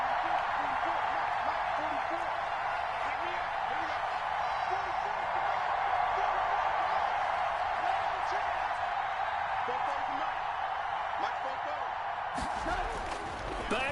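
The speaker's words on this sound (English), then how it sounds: "The crowd's not doing that O-line any favors." Home stadium crowd in a PS4 football video game, a loud, sustained roar that holds steady for many seconds, with a sharp cut near the end.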